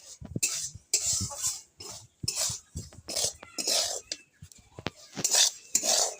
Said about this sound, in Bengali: এইভাবে কড়া করে নুনটা ভেজে নিতে হবে